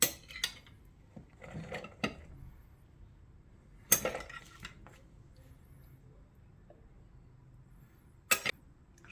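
Dishes and cutlery clink while ceviche of raw fish is plated, a few sharp, close clatters separated by quiet stretches with faint handling noise between them.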